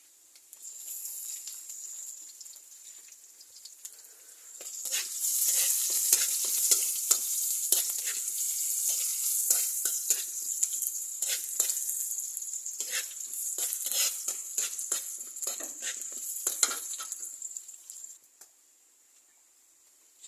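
Sliced onions hit hot oil in a pan and sizzle loudly and steadily, with stirring scrapes and clicks throughout. The frying is quieter for the first few seconds and fades out at the end.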